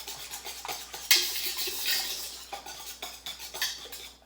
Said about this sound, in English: If you don't have a whisk, you can use a fork, just so you mix it in.